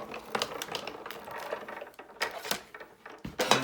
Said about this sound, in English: then you simply wind it through the machine